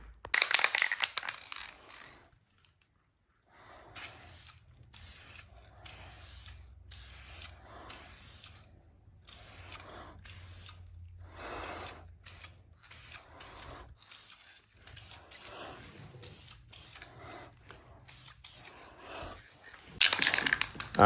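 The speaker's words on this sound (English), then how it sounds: "we're going in with some paint, boys" Aerosol spray cans apply primer and paint to an engine and transmission from an Acura Integra GSR swap, giving many short hissing bursts in an uneven rhythm, fairly quiet, with gaps between sprays and a low hum under some of them.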